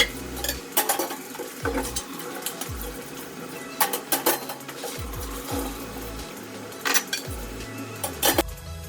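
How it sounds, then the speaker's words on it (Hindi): Dishes, pots and pans are washed in a home kitchen while milk boils, with faint scattered clinks and knocks of utensils over running water and a low steady hum, no talk. "जब तक दूध बॉईल हो रहा है सारे बर्तन धो लेती हूँ"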